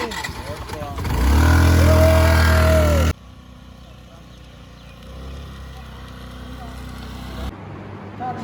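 A vehicle engine catches and revs loudly for a couple of seconds, then drops to a lower idle rumble.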